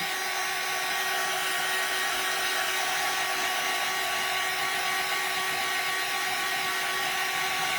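Heat gun blowing steadily on thick craft glue at the base of a plastic snowman being redone in primitive style, a loud, constant close whirring roar with a fixed whine, no voices.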